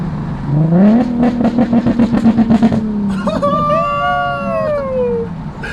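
A Nissan 370Z Nismo with a Tomei Ti Expreme exhaust revs hard in a rapid series of pulsing blips, then settles into a rising, whining engine note, loud and close, with no talking.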